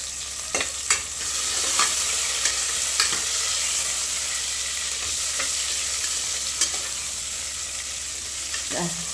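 Small onions and curry leaves fry in oil for a pigeon-pea sambar, a continuous close sizzle broken by occasional sharp clinks and scrapes of a stirring spoon.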